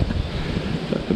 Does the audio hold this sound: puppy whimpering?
no